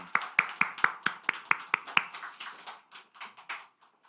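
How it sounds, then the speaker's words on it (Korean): A church congregation gives a short round of applause to welcome the choir, a steady rhythmic clapping from a modest crowd at moderate distance that thins out and fades after a few seconds. "우리 박수로 환영할까요?"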